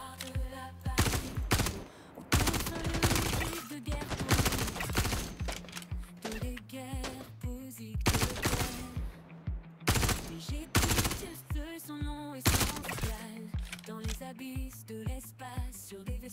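Repeated bursts of gunfire in Star Citizen, sharp loud volleys coming in irregular clusters over a droning game soundtrack, with little talk.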